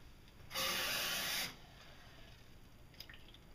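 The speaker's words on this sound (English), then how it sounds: "as that drains, it's just dripping down" Water drains from a tray of a Victorio four-tray seed sprouter, a brief close splash of running water followed by faint scattered drips in a quiet room.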